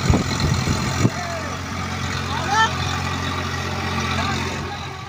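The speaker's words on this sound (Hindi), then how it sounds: "स्वराज को देखो, दहाड़ते हुए चल रहा है।" Swaraj tractor engine working in a farm field, a loud, steady, rumbling drone that runs without a break throughout, close by, with a voice briefly heard near the start.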